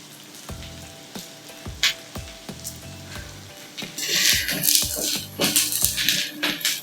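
Onions fry in a pan for a Mangalorean mutton curry, with a rhythmic run of spoon taps and scrapes against the pan over a soft sizzle that swells into a louder, bright crackling hiss near the end, no talking.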